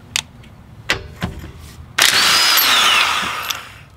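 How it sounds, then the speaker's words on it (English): A Kobalt 24V impact wrench fitted with a 6Ah battery gives a few sharp clicks, then spins up into a loud, steady high-pitched whir for about two seconds before winding down. "Alright, first one is the impact wrench."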